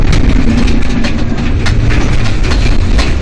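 A vehicle motor drives loudly through a forest, a dense, close rumbling drone with rattling bumps, recorded from inside, with no clear talk during the stretch.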